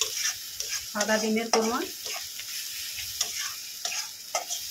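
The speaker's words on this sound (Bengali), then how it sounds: "মশলা দিয়ে আবারও ভালো করে একটু কষিয়ে নেব।" Spice masala being sautéed and stirred in a pan for egg korma, with a soft steady sizzle and scraping stir strokes under brief bits of speech.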